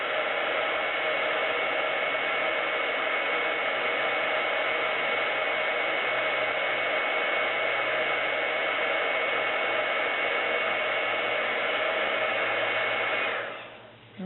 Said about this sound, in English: walk your heat gun around to melt the embossing powder